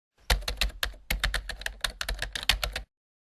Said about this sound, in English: you can replace the old text instantly by simply typing